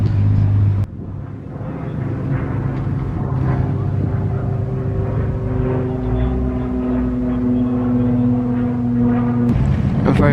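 A heavily modified Ford Pop classic car rolls in at a classic car meet, its engine a steady, loud low rumble with a rising tone that holds for several seconds before cutting off near the end.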